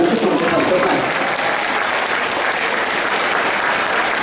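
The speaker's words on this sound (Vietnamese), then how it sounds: "Đề nghị chúng ta vỗ tay chúc mừng cái thành tích này." At a Vietnamese school ceremony honoring Vietnamese Women's Day, teachers and students give loud, dense applause that holds steady without letup, with faint voices mixed in.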